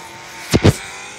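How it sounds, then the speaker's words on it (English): A car engine in the Roblox video game sweeps past in two quick revving surges, loud and close, over a quiet background. "I better hurry up, this car coming!"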